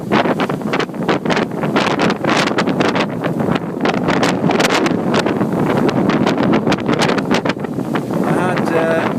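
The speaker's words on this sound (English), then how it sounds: "the wind is dropping all the time" Wind at sea on a sailboat between Madeira and the Azores buffets the microphone in irregular gusts, loud and rushing throughout, with some talk mixed in.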